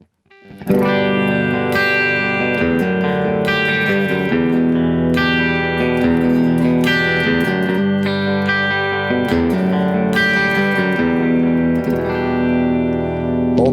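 A 1974 Gibson Les Paul Custom with old pickups plays clean through a Colonial 1.4 amp with reverb added, ringing chords that sustain and wash into each other, loud and continuous with no talking.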